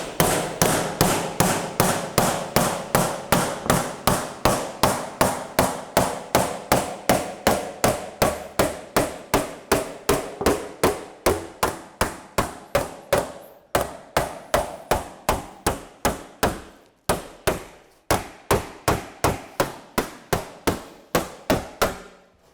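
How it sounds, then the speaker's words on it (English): A small blocking hammer beats sheet metal during English wheel panel shaping, a long run of sharp, evenly paced metallic blows, close and loud, with a couple of brief pauses and no talk. "So I'm going to get my small blocking hammer and put a little bit of a blocking."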